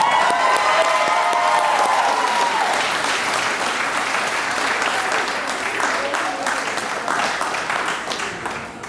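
A crowd at a YMCA annual meeting gives sustained applause, dense and steady clapping that stays loud through most of the stretch and slowly fades toward the end, with some cheering mixed in.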